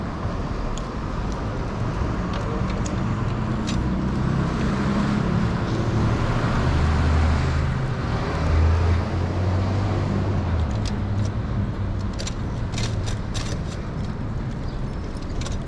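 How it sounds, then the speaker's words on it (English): A big truck passes on a city road, a broad, steady rumbling roar of engine and tyres that swells in the middle and fades back into traffic noise. "I think we'll let this big truck go"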